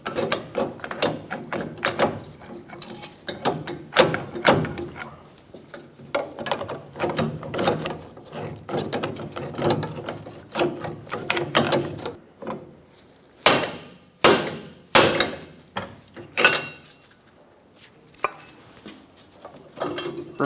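Metal clanks and knocks from removing nuts and washers off the rear leveling kit of a 2014-2018 Chevrolet Silverado 1500, with irregular taps and rattles close by, a few sharper louder strikes toward the end.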